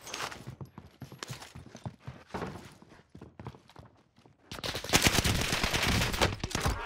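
Gunfire from a battle in the shooter Warzone Caldera, with scattered sharp shots at first, a brief lull, then a dense, loud burst of rapid automatic fire.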